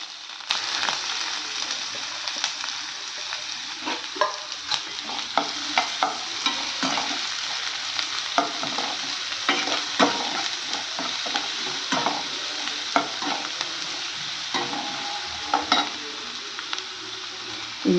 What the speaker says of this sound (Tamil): நல்லா பொரியட்டும்.